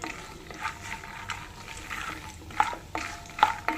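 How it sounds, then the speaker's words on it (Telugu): Peanuts frying at medium heat in a pan, stirred with a utensil that scrapes and clinks against the metal in irregular strokes over a soft steady sizzle, with two sharper clinks near the end; no talk. "మీడియంలో పెట్టుకొని వేపుకోవాలి ఇవన్నీ."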